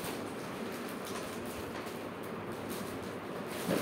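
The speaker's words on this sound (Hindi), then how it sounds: "ट्रेन के अंदर हम लोग बैठे हैं मेट्रो में" Steady rumble and hiss of a metro train running, heard from inside the carriage on a ride toward Miyapur station, a continuous close wash of noise with no talk.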